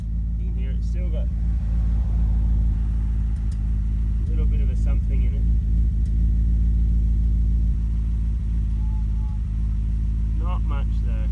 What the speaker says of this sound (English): Just thought we'd listen to the exhaust for a minute.